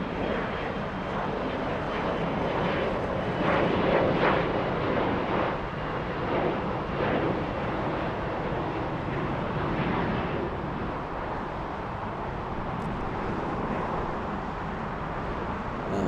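A jet at LAX airport roars steadily and loudly for a long stretch, swelling and then holding, with distant traffic mixed in and no clear voices.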